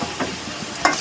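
Shrimp, onion, green chili and vegetables such as long beans are stir-fried in a pan for chowmein, with soft sizzling under a few scraping stirs and a sharper clatter near the end.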